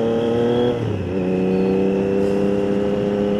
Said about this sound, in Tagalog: Simulan natin yung sound test ng ating new muffler.